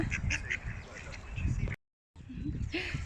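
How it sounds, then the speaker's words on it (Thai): Ducks and ducklings quacking nearby at a lake with voices talking over them, broken by a brief moment of silence before the quacks and chatter resume. "ใครเจอเจ้าเป็ดน้อยมาก มีลูกเป็ดด้วยนะ"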